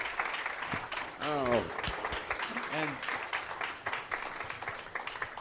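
A church service congregation applauds, a dense wash of clapping running under the whole moment while a voice speaks over it, rising in the middle.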